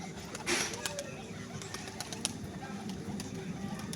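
Madrasi pigeons, including a female, coo softly in a low, continuous murmur against steady background noise, with a brief louder burst early on.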